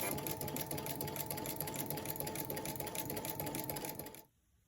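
A sewing machine stitches steadily through two layers of fabric while self-quilting, its fast, even motor whir and needle chatter running close and constant before cutting off abruptly near the end.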